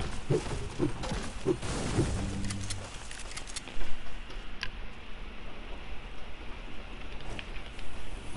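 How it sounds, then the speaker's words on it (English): Rain heard through a microphone, a steady soft patter and hiss of drops with scattered ticks, with some low muffled sounds early on, continuous and moderately loud with no clear talk. "Can this rain take a chill pill? I know, right? I can hear it through my mic."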